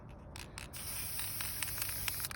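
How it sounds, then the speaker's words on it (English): A spray paint can hisses in a steady close-up burst at a frame after a few short spritzes, with faint clicks and rattling over the constant spray. "And spray paint"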